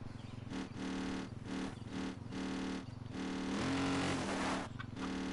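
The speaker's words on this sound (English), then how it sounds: "Quad bike sound is very odd." Quad bike engine in the video game Far Cry New Dawn, a steady loud droning hum with harmonic bands, pulsing as the throttle rises and dips, plus a brief rougher surge near the end, heard alone with no talking.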